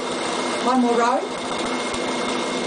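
A Bernina sewing machine stitching a quilting row, heard as a steady mechanical whir that rises briefly as the needle runs, close and continuous beneath someone talking.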